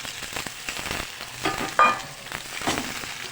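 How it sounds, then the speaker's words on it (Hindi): Okra pieces dropped into a few spoonfuls of hot cooking oil in a kadai sizzle and crackle softly, with scattered pops and one sharper burst midway, close by and without talk. "इसके अंदर सबसे पहले भिंडी डाल के हम फ्राई करेंगे।"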